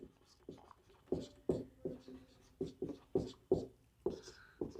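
Pen scratches on paper in short, rhythmic strokes while working a physics test solution, close and quiet, with faint speech between the strokes.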